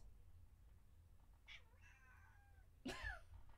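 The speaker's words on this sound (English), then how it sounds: "There's a cat behind me and she's meowing." A cat meows from close behind, first as a soft drawn-out call and then as a louder, sharper meow near the end, over quiet room hum.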